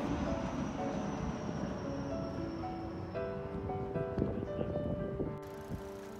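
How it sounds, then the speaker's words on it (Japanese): A Keio Line express train rolls by with steady rumbling and clanking, while high squealing tones slide and shift as it slows to stop at Keio-tamagawa Station, ending in a sharp hiss. "京王多摩川駅に停車しようとして減速しているようです"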